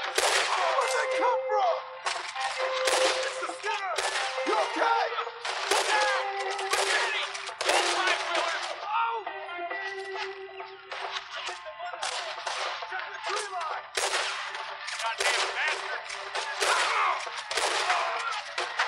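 Rapid gunfire from the video game Red Dead Redemption 2 crackles in dense, continuous bursts and volleys, loud and near, with a voice speaking at times beneath the shots.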